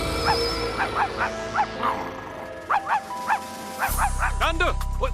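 A cartoon dog lets out a series of short, rhythmic whimpering yelps and a few sharp barks, with a speaking voice and mechanical noises around it.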